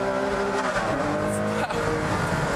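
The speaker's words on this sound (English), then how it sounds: "you get that lovely V12 engine behind you, the blip of the down change that comes automatically" A Ferrari Enzo's V12 engine drives on a race track. It sounds as a loud, continuous high-pitched howl from inside the car, and the pitch shifts as gears change and downshift blips cut in, while a voice talks faintly beneath.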